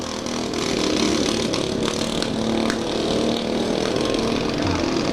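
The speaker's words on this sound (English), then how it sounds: "these little lawnmowers keep on running and keep running" Several small lawn mower engines run nonstop at a demolition derby, making a loud, dense, steady buzzing drone with crowd and arena noise blended in throughout.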